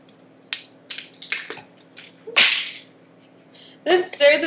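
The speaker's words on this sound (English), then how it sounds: "Then stir the mixture until it's all equal and everything's mixed together." Butter, sugar and vanilla extract being stirred together in a mixing bowl for baking, heard as a series of soft, wet scraping and squishing strokes at close range, irregular and quiet, with a louder burst of stirring near the end.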